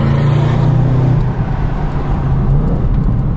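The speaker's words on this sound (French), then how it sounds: "là on est sur un échappement d'origine voilà, qui est quand même assez bruyant, qui a une sonorité assez sympa" An Audi RS6 running on its stock exhaust gives off a loud, steady low engine drone with a fairly rich tone, holding constant throughout with only a slight dip midway and no voices.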